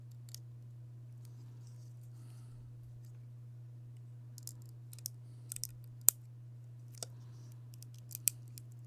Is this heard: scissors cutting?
yes